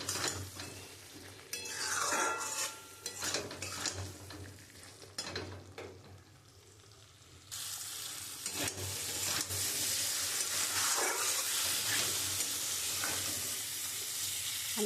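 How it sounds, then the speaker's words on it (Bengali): Potatoes are sautéed with spice paste in oil for a katla fish curry. A soft, continuous sizzle is broken by occasional stirring scrapes, then swells into a brighter, fuller hiss partway through, with no speech. "মশলাটা দিয়ে খুব সুন্দর করে আলুটা কষিয়ে নেব"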